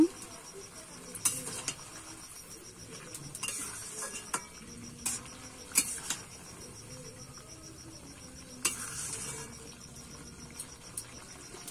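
A pan of drumstick (sojne data) and potato curry being stirred: intermittent spoon scrapes and metallic clinks ring out over a steady, faint high-pitched sizzle, with no talking.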